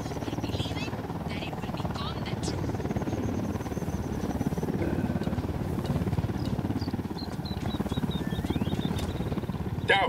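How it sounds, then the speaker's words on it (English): A helicopter flies in during Ghost Recon Wildlands gameplay, its steady rotor drone filling the mix for the whole stretch, with scattered game effects and chirps layered above. "Helicopter inbound."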